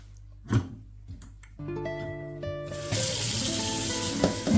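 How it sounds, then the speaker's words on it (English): Tomatoes are washed in water in a kitchen, with a running tap and water splashing and swirling, the flow growing fuller and steadier toward the end. "put them in some water and wash them thoroughly"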